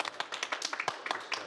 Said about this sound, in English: Oh, you clap too, huh?